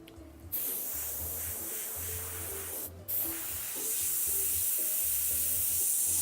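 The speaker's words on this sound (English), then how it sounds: "And then I spray it fairly high pressure for this technique, because I want a nice thin line." An airbrush sprays paint at fairly high pressure for thin lines, steady hissing bursts cutting off briefly twice before spraying continuously again; no one speaks.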